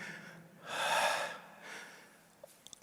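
A ballroom dance instructor gives one loud, sharp breath, then a softer second breath, followed by a few faint clicks in a quiet room.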